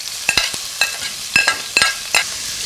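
Celery, chive, shadow benny, garlic and ginger are sautéed for curry goat. A spoon stirs and scrapes the sizzling pan in quick, irregular strokes, five or six crisp clatters over a soft frying hiss.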